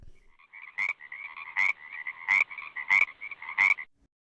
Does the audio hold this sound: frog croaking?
yes